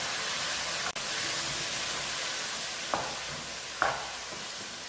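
Chicken pasta with sweetcorn stirred in a hot pan, a loud steady sizzle and hiss filling the space while a couple of brief scraping strokes of the spoon cut through, no voices.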